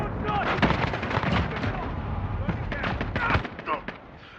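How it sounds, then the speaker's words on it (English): Cruise missile launch and blast in a live-streamed military shooter game, heard as a dense roar of booming explosions and gunfire-like cracks running throughout, with a few sharp peaks near the end. "cruise missile away"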